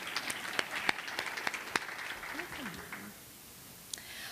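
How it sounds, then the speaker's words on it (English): Scattered applause from guests at a school valedictorians luncheon, sparse distinct claps that thin out midway, with faint talk underneath. "You deserve a round of applause, too"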